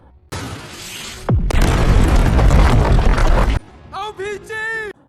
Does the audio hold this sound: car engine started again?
no